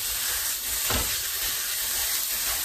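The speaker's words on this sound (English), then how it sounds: "I'll just push down on that a little bit and get that sizzling" Steady broadband sizzle of ground beef frying in a hot pan, with a brief louder crackle burst near the start, no voices.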